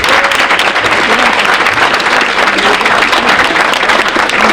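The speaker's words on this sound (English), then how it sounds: "a round of applause for our Hudson Dancers" A crowd at a school sports awards event applauds steadily, dense clapping sustained without a break from start to finish.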